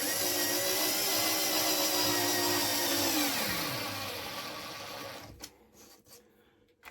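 A power drill drives a self-countersinking screw into a model railway station deck, a loud steady whine for about three seconds whose pitch then drops as the motor winds down, leaving quiet scraping clicks.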